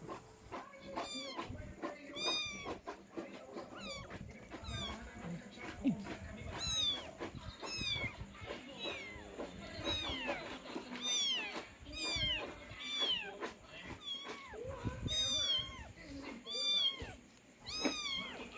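Repeated cat meows, several overlapping, rising and falling in pitch throughout, with some human voices and background noise underneath.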